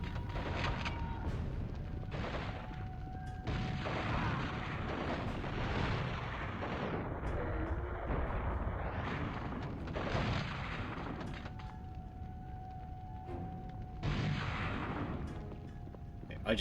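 Shotgun fire in the video game Dead To Rights: loud, dense booming blasts and explosions that roll almost continuously, with brief lulls between heavy bursts.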